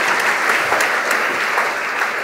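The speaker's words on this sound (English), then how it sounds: "Please join me in giving them a warm hand of applause." Dense, steady audience applause fills a lecture hall before a science talk on earthquake computer simulations, loud and continuous for a couple of seconds.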